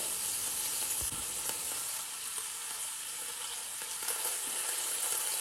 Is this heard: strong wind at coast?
no